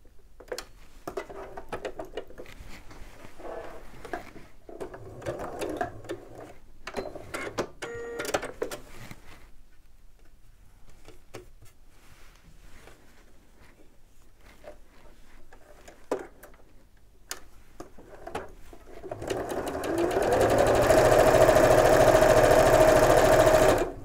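A sewing machine stitches a patchwork seam in a loud, steady whir over the last few seconds, after quieter handling and clicks while the fabric is positioned.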